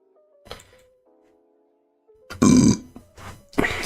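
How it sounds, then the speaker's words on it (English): Loud close burps from people at a casual chess hangout, with a couple of short belches and a long rumbling one, amid faint background tones and bumps. "You guys are burping."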